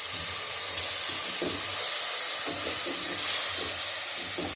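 Masala fries in a pan with a little water added for rice, giving a steady loud hiss and sizzle with faint stirring knocks beneath it.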